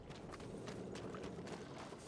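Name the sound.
horse hooves, from video game Red Dead Online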